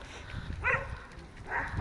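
Dog barking among houses in a Czech neighborhood, two short, muffled barks from a distance, spaced about a second apart.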